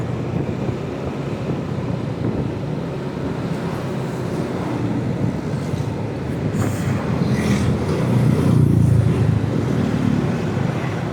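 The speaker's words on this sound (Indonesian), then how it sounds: "Sering lewatin truk-truk besar." Big trucks pass on a road toward Garut in Indonesia, a steady loud rumble of heavy traffic with wind buffeting the microphone and a swelling pass near the end, with no talk.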